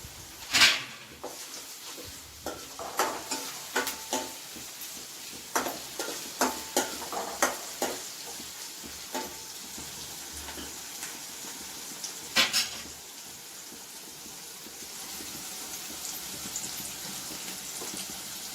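Onions with salt fry in a pan, giving a steady soft sizzle broken by repeated stirring scrapes and taps of a utensil, close by and with no talk.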